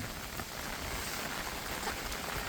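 Steady rain falls outdoors in a wet monsoon village setting as a faint, even hiss with no talk.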